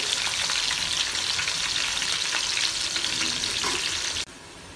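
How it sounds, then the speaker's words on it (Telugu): Ingredients browning in oil on a stove for tomato katta bagara rice make a loud, dense, continuous sizzle that cuts off abruptly near the end. "బ్రౌన్ కలర్లోకి రావాలి కదా, వచ్చే వరకు ఇలా స్టవ్ మీద వేయించుకుందాము"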